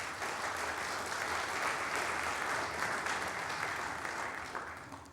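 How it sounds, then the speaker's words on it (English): A church service audience welcomes two speakers with steady applause, dense sustained clapping that holds evenly for several seconds before tapering off at the end. "And so let's welcome them with our applause."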